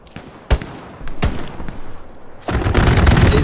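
Gunfire in the World War II shooter Hell Let Loose, with sharp separate shots followed by a denser burst of rapid, machine-gun-like fire.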